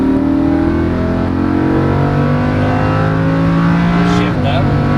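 Lamborghini Huracan on a race track accelerating hard out of a turn, a loud close engine roar climbing steadily in pitch, with an instructor's voice talking over it.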